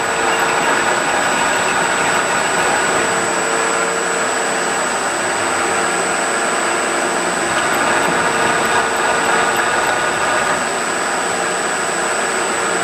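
A sawmill top saw cuts through a log, with steady, loud, continuous machine noise and a high whine throughout, and no talk.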